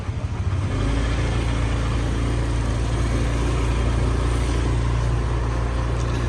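A motorbike engine running steadily at idle on a morning ride, a continuous close low hum with a slight rev at the start and no talk.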